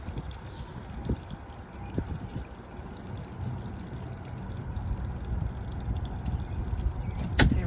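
A single-engine boat backs toward a dock on a windy day, its low engine rumble churning water steadily and building slightly, with wind buffeting and a sharp knock near the end, no talking.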